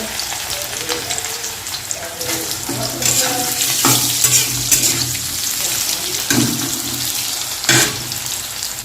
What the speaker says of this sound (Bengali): আমি এখন কাঁকরুলটাও হালকা করে ভেজে নেব